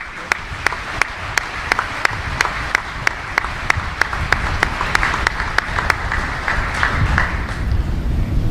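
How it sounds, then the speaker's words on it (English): A crowd applauds a singer at a 2021 US Indo-Pacific Command change-of-command ceremony, giving loud, sustained clapping with sharp individual claps standing out at a regular rhythm above the wash. "Let's give her another round of applause."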